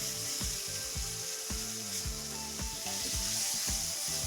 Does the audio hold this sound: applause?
no